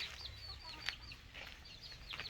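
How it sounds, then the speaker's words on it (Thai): Rhode Island Red laying hens cluck in short, scattered calls at a moderate distance, with one sharper note standing out partway through, all over a low steady rumble. "อันนี้เรียกว่าโรดแดงไก่ไข่นะครับ"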